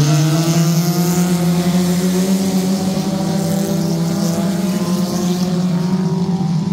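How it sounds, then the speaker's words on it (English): Compact race cars roar off at the green flag on a speedway, a dense layered engine drone holding steady and slightly rising as the field gets underway, loud and continuous. "Getting ready to go green flag racing"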